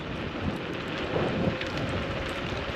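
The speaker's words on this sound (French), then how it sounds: "il y a un sacré vent" Strong wind buffets the microphone in a steady, rough roar while riding a Vsett 10 electric road scooter down a steep hill, with no voices.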